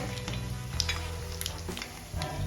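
Sesame seeds, poppy seeds and grated coconut roast in hot oil alongside coriander, pepper, cloves and other whole spices for chicken khaliya, giving a steady close sizzle with scattered crackles and scraping stirs, no voices.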